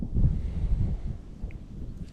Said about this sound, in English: when it's windy like this in this bottom corner